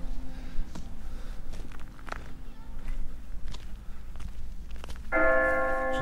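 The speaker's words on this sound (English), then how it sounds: "Just got here for 12 bells." Church bells ringing for noon near the Dolmen Centre at Kilclooney in Ireland, a few distant struck tones spaced apart over outdoor ambience and footsteps, with a brighter ringing burst near the end.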